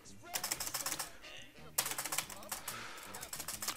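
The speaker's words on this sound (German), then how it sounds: "Man hört jetzt bestimmt richtig, wie ich auf meine Leertaste hämmer" Someone hammers a keyboard's space bar in quick repeated clacks, sharp and close, in two bursts of rapid strikes with a short pause between them. Someone talks over the typing.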